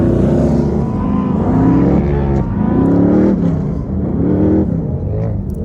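Off-road race vehicles at King of the Hammers roar past one after another, engines rising and falling in loud, close waves of revving with no pause between them.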